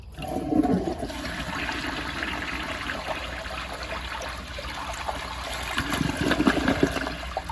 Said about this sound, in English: And here's another flush.